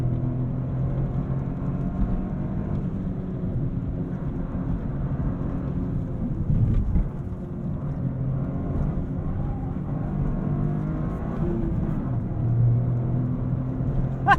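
A 2023 Toyota GR Corolla Core driven hard through corners gives a steady, loud, close engine drone with a low, shifting pitch over constant road rumble, broken by a brief thump midway, with no talking.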